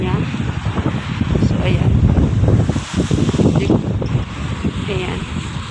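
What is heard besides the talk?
wind blowing outdoors near hotel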